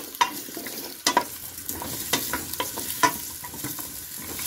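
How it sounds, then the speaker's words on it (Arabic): Oil sizzles in a pan while food is stirred and toasted, about two spoonfuls of oil with potatoes, chicken and carrots for a Turkish dish, giving a steady close frying hiss broken by sharp scraping clacks of the spoon against the pan, with no talk. "بنحط هيك شوية زيت، معلقتين زيت ما بنكتره، بنفضي هلا كل شي، هلا شوي بنحمصه"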